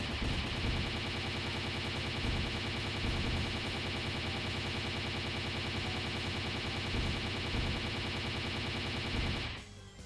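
Dense, continuous machine gun fire in the Disgaea 2 video game, a loud sustained rattling barrage that runs for about nine seconds before cutting off abruptly.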